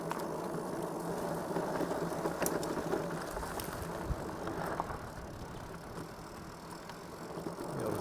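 Lectric Xpeak e-bike rolling along a mountain trail, giving a steady broadband rumble of tires and drivetrain with faint ratcheting clicks, continuous and close throughout with no talking.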